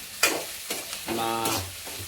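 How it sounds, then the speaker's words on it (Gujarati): Cabbage manchurian being tossed for tempering in a hot pan, a few close scrapes of a spatula against metal followed by a rising sizzle and hiss, with no one speaking. "હવે આપણે મંચુરિયનને વઘાર આપીશું."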